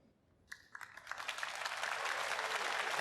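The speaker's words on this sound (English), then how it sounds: "the round of applause tells us that the players are back" Snooker audience at the Shanghai Masters final starts with a few scattered claps, then swells into steady applause from a crowd in the arena. It is moderately loud with no voices over it.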